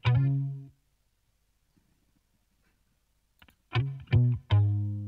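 Electric guitar through an amp with reverb and chorus, a sustained chord ringing out and fading, then after a silent gap three sharp strummed chords in quick succession, close and clear.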